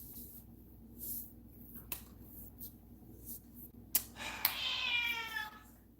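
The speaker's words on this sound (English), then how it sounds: "He's just meow, meow, meow." A house cat meows indoors in a kitchen while dinner is cooked, several drawn-out, rising cries near the end over a quiet background with a few sharp clicks and taps.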